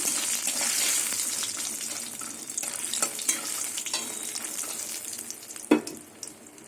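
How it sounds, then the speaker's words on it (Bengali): Bori, lentil dumplings, frying in hot oil until reddish: a steady close sizzle with scraping stir strokes and light utensil clinks, and one sharp clack near the end. "বড়িটা ভেজে নেব লাল লাল করে ভাজবো বড়িগুলোকে"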